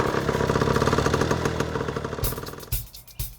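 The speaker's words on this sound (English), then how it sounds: "It may be smokier than a bike shed, but this time it both starts and idles." An old, smoky motorcycle engine runs with a steady, close, rattling idle that throbs evenly, then shuts off into silence broken by two sharp thumps and clatters.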